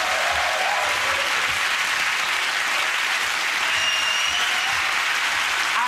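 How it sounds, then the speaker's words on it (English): A studio audience on a comedy panel show claps in a sustained, even round of applause, full and bright throughout with no voices over it. "OK, again, that round of applause to Russell,"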